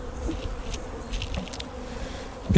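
Old honeybees hum around an opened hive frame, a continuous close buzzing with individual bees swelling past now and then, no talking.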